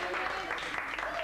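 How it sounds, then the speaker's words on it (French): A small group of educators at a training game session applaud themselves, a short, fairly quiet burst of clapping mixed with some voices in a room. "On s'applaudit nous-mêmes."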